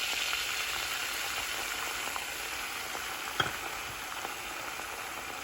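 Tomatoes sizzling in a pan with garlic and spices, a continuous moderate fizzing hiss with faint crackles and one brief clack of a utensil partway through.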